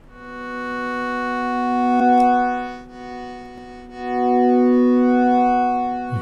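Synth tones from a Modal Argon 8 run through a Strymon Deco pedal with phase-inverted modulation, the sustained notes swelling and then dipping nearly to silence in brief dropouts, with no talking.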